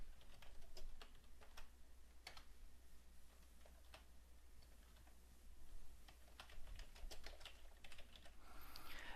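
Someone types on a computer keyboard while filling in form fields, using Alt-key access-key shortcuts: irregular, quiet clicks and taps with short bursts and pauses in a calm room, no voices.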